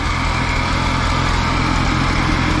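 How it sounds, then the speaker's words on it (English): A late-1940s Allis Chalmers G tractor engine runs steadily up close, a continuous, even mechanical drone with a low putter that stays loud and unbroken throughout. "So anyway, Allis Chalmers G tractor."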